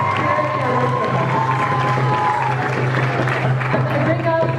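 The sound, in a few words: audience applause at a poetry slam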